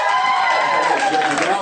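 Studio audience at a live comedy podcast taping claps and cheers in a dense, steady burst to vote, a loud close crowd with bright hand-claps and voices mixed throughout.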